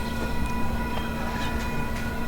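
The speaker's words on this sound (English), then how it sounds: "There is a mini train," Mini train ride for kids at a plantation site on Oʻahu, a steady rumbling rolling noise with faint clicks and a sustained hum, no talking.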